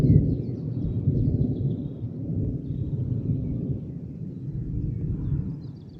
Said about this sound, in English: the thunderstorm popped up quick.